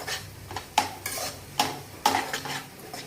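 Beans and vegetables shallow-frying in oil for paneer vegetable fried rice, stirred with a utensil scraping the pan in sharp, repeated strokes over a steady sizzle.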